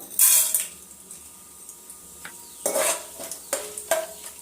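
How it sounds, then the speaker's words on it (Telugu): Tempering seeds of cumin, mustard and split chickpeas splutter in hot oil, with bursts of crackling and a few sharp utensil clinks and scrapes against the pan, close and quiet in between. "తాలింపు గింజలు చిటపటలు ఆడుతున్నాయి కదా"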